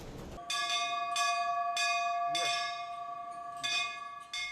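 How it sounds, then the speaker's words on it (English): A sensor-triggered temple bell rings over and over in quick, regular strikes, each clear metallic tone overlapping the fading hum of the last. "The bell made by Khan starts ringing as soon as the devotee comes under it"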